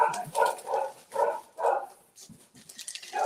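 A pet dog named Keish barks indoors in a run of five loud, close barks at a regular pace, followed by quieter snuffling and a final bark.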